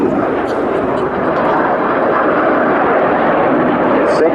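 Red Arrows display jets at an air show roar past in a loud, steady broadband rush, engine noise filling the whole stretch without a break.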